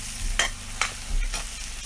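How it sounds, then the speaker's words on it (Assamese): Onions tossed into a little hot oil for a village-style Assamese goat curry, stirred with about three scraping strokes over a soft, steady sizzle, close by with no talking. "অলপ থৈ দিয়া পিঁয়াজ ইয়াত ঢালি দিছোঁ"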